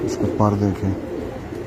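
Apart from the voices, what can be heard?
pigeons cooing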